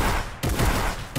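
Gunfire in the video game Fortnite, a loud close burst of rapid shots, a brief gap, then another burst, with no talking.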